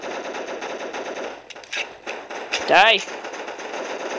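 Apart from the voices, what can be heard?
gunfire in video game Block Strike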